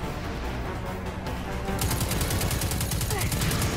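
Rapid bursts of automatic gunfire from a weapon in the video game Destiny 2, loud and close, with dense repeated shots over a steady mix of game sound.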